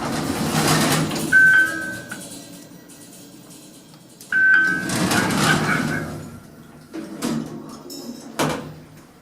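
A lift's doors slide shut twice in fire service mode, each closing a rumbling mechanical run with a brief electronic tone, followed by a couple of clunks as the doors settle.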